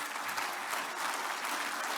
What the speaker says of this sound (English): Please give a huge round of applause to all the winners, all the nominees.